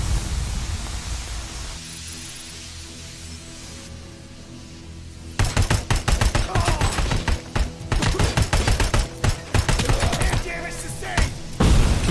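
Gunfire in the video game RoboCop: Rogue City during a fight with mercenaries; after a quiet, hissy lull, loud rapid bursts of automatic fire crack in dense clusters, broken by brief pauses.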